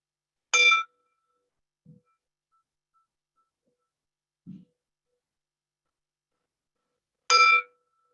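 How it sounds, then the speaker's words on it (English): A mindfulness bell rings twice in an otherwise silent room, each bright metallic strike about seven seconds apart and fading quickly. Two soft low thumps fall in the quiet between the strikes, and no one speaks. "till you can no longer hear the sound of the bell"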